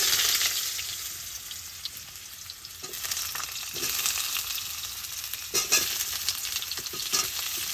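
Potatoes fry in hot oil in a pan during village-style Bengali crab cooking, giving a dense, steady sizzle that swells and dips with a few stirring scrapes, close up and without talk.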